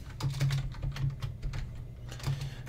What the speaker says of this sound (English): Oops, typing on the wrong keyboard